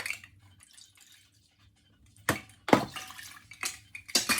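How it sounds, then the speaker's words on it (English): Water poured and measured into a pot on a stove for rice: quiet kitchen hush with faint drips, then several loud splashy pours and clanks in separate bursts near the end. "I'm going to be measuring 2 cups of water to bring to a boil on the stove"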